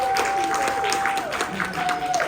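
At a convention Q&A with a guest of honour, a crowd applauds for Jessie in a dense, loud wash of clapping, with a steady tone running underneath.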